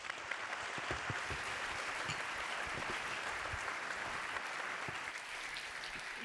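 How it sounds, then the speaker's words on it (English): Sustained audience applause for a panel of speakers at an investment forum on energy transition, steady dense clapping throughout at moderate level with no talk over it. "a round of applause for our panelists"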